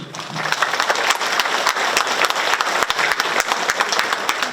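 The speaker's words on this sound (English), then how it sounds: "I want to give him again a round of applause." An audience at a fifty-year freedom heritage celebration applauds, a brisk burst of many hands clapping at a moderate distance, steady throughout the short stretch.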